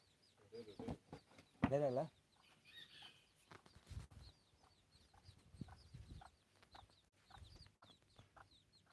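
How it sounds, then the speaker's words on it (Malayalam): Fancy chickens cluck and squawk nearby, with a brief burst of wing flapping, fairly faint, while someone talks quietly in between. "ഇതാണ് ഫാൻസി കോഴി"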